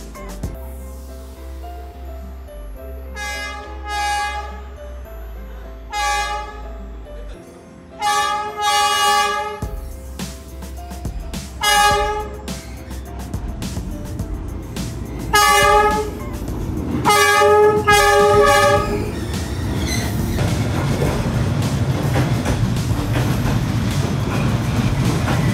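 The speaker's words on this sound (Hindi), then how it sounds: "उस दिन ट्रेन लगभग रात के 9:30 बजे आई थी।" At night a train rolls through Hanoi's narrow train street. It sounds several long horn blasts in separate bursts, then comes closer as a loud, building rumble of wheels and cars.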